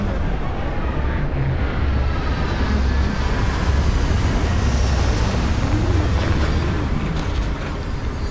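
A ship in the game Starfield comes in to land, a steady loud roar of engine thrust and rushing wind, dense low rumble with hissing air throughout and no voices.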